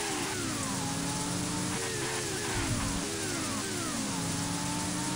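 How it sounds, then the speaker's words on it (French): Steady rain hisses in the PS2 racing game Racing Simulation 3, a dense continuous patter layered over a car engine whose pitch climbs and drops through repeated gear changes. "la pluie, ma foi, m'a l'air pas trop mal rendue"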